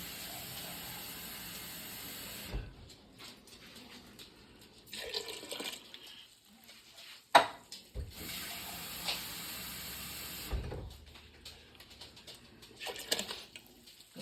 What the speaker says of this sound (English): I'm going to add me some more cans of this juice from the bean cans, just some water